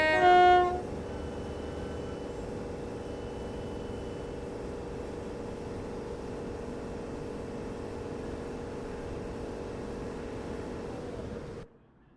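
A UK electric train pulls away in the Train Sim Classic game, a steady low rumble and hum of traction under a faint hiss, after a brief louder tone at the start, cutting off abruptly at the end.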